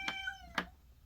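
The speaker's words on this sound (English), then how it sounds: "oh, cat fight." Cats fighting outdoors by a garden koi pond, with two sharp, drawn-out yowls about half a second apart, moderately near and alone.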